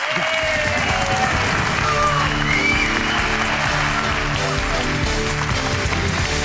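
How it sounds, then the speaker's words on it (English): An audience breaks into applause on cue, a broad steady wash of clapping heard alongside a sustained tonal music bed throughout. "big clap, applause"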